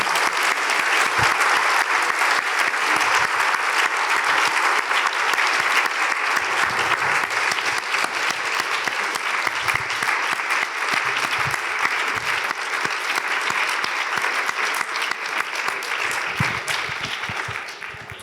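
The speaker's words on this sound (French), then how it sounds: "je vous propose d'applaudir très chaleureusement Camille Froideau-Métry" Audience at a public interview event applauding warmly, a long, dense burst of clapping from a full room that stays strong and even before tapering off at the close.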